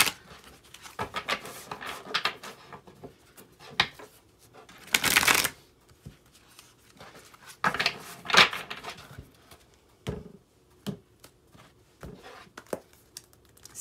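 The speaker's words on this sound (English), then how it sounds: "Let's get another tarot card." Tarot cards are shuffled and drawn by hand up close, giving quick riffling bursts, soft slaps and paper flicks in an irregular rhythm with short quiet gaps between.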